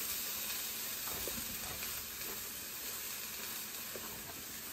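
Quartered cucumber slices sizzle in a hot frying pan, a steady, even hiss that fills the whole moment with faint clinks underneath.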